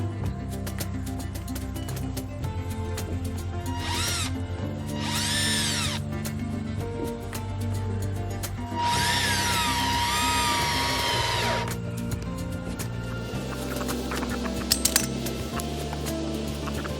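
A power drill drives screws while a pig house is being built, whining in short bursts and then one longer spin over a steady background, with no talk.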